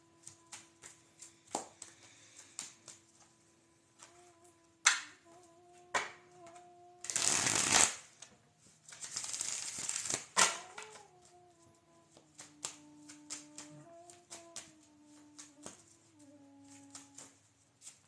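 Tarot card deck being shuffled and cut, with two dense riffling bursts in the middle among scattered light taps and clicks, close and fairly quiet against a steady background hum.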